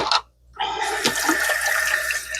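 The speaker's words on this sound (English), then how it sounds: "I'm washing my hands here" Tap water runs while hands are washed, a brief splash, a short pause, then a steady loud rush of water close by.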